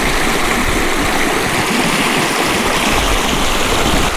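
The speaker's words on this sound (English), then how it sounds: "That's definitely a class 3 rapids." Fast class 3 rapids in a creek on rural California land rush in a loud, steady, close roar of churning water with no pauses.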